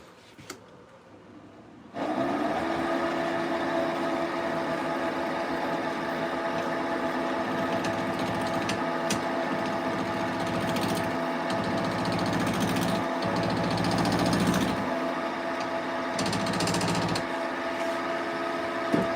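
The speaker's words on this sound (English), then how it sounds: "So we're going to try to turn this a little smaller so it fits in my chuck." A wood lathe starts up abruptly, then runs at a steady tonal hum while a tool cuts a wooden piece down, its scraping and chattering rising and falling over the motor; loud and close, no talking.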